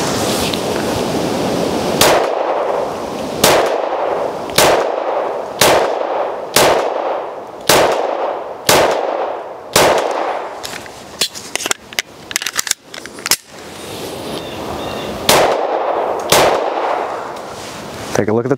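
Pistol shots fired one after another while plinking at a target on a range, with about a dozen loud sharp reports at irregular intervals and a quick cluster of shots in the middle.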